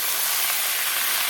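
Leafy greens drop into hot oil already frying onion, garlic and green chillies, setting off a loud, dense, unbroken hiss of sizzling up close, with no voices.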